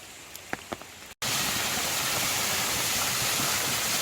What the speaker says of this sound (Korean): 조곡폭포라는데 꼭 인공폭포 같습니다.